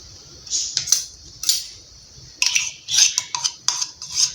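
Condensed milk being added to a pan on a stove over low flame for homemade chocolate, heard as light metallic scraping and clinks of a utensil against the pan in short bursts, close and fairly soft.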